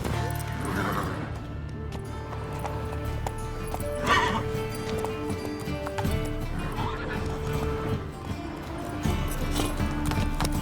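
A horse in The Witcher 3 gallops with steady clip-clopping hooves and whinnies loudly partway through, set against a dense layer of game music and ambience.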